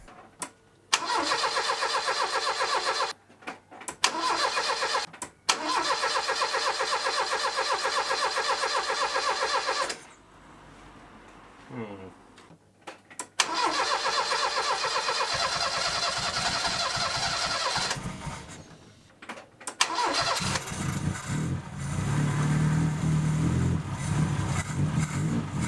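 A Mk3 car engine on a new carburettor, fed from a jerry can, cranks and catches, roaring loudly and steadily near at hand, cuts out, then restarts after brief pauses and settles into a running idle, with no voices.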